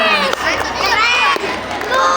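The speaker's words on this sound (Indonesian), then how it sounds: "Tepuk tangan untuk Regu Beruang." Children at a madrasah scout and arts competition cheer and shout for a scout troop, a lively crowd with loud excited voices throughout.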